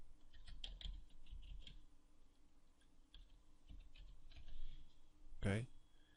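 Typing on a computer keyboard under Windows 7 to name a new zip archive, a quiet irregular patter of key clicks with a sharper tap near the end, no talking.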